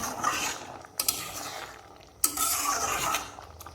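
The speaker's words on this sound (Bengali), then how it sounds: "এটা নেড়ে চেড়ে দেখিয়ে দিই" Eggs being stirred in a cooking pan: soft scraping and clattering strokes come in two main bursts, each starting with a sharp knock against the pan. Fairly close, with no voices.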